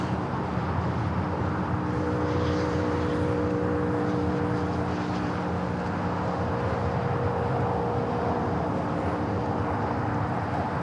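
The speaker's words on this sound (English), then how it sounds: "It's a 14-year-old 777 at 300ER." A 14-year-old British Airways Boeing 777-300ER, Flight 282, at Los Angeles International Airport, gives a steady, loud engine roar with faint tonal whines, holding at an even level throughout against broad airport rumble.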